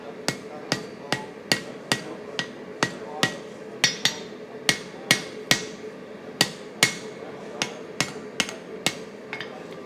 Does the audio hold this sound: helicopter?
no